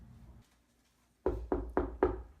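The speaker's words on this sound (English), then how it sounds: "go to the gate, somebody knocks." Four firm knocks on a gate in a staged Julius Caesar scene, evenly spaced and close, ringing out alone after a quiet stretch.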